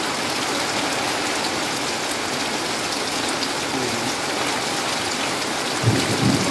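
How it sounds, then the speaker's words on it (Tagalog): Heavy typhoon rain pours down in a dense, constant roar, with thunder rumbling low near the end; no voices are heard. "Ito na yata yung bagyong Pipito."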